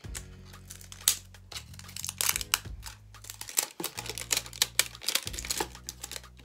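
Plastic packaging comes off an eyeshadow palette, close crinkling and tearing in quick irregular bursts over a low steady hum.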